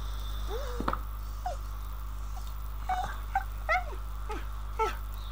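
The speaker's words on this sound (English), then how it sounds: "That's a whining dog." A dog whines and whimpers in the indie horror video game Never Apart, several high, rising and falling cries spaced through the clip over a steady low hum.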